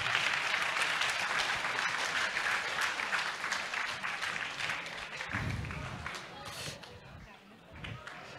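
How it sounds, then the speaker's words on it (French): Applause from a conference audience at a youth careers event in Bordeaux, fairly steady and moderately distant, gradually thinning toward the end with a few low thumps and murmurs. "les gens qui ont préparé tout ça méritent que vous les applaudissiez"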